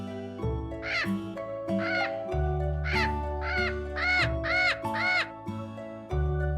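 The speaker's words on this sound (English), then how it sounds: "Parrot." A parrot gives a run of about seven harsh, squawking calls in quick succession over a steady music backing, with no talking.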